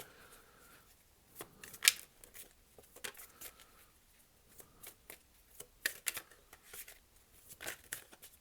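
A Thoth tarot deck being shuffled by hand, soft papery riffles and taps coming in quick irregular bursts, close but quiet, with no one speaking.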